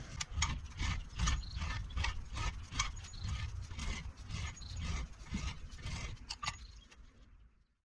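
Valve seat cutter grinding on a 1952 Case DC tractor engine with repeated clicking, ratcheting turns, a steady rhythmic scraping that stays fairly close and quiet before fading out.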